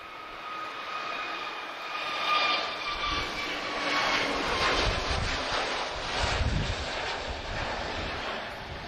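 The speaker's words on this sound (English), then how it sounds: "So another transatlantic flight, he's off to Boston, so A321neo, long range." An Airbus A321neo long-range jet departs Lisbon Airport for Boston, its engines a broad, steady roar that swells around the midpoint and holds loud with some wind buffeting.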